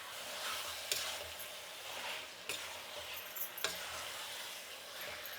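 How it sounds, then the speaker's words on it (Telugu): Chicken fries in a kadai with a faint, steady sizzle and a few sharp stirring clicks spaced a second or so apart, quiet and unaccompanied by talk. "ఇప్పుడు ఈ చికెన్ వేసినాక కొంచెంసేపు వేయించుకోవాలండి బాగా"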